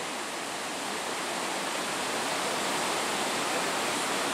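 A waterfall on the Nysa Kłodzka river, swollen after heavy rain, roars in a dense, unbroken rush of water that stays loud and constant throughout.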